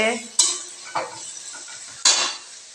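Carrots frying in a pan, with a few sharp scraping stirs punctuating the steady sizzle, close and fairly loud, no talking.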